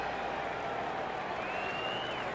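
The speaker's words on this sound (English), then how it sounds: "Here's another opportunity for the crowd to go berserk." A golf tournament crowd applauds a shot at a PGA Tour event, a steady, distant wash of clapping and cheering that holds evenly throughout, with a faint whistle rising near the end.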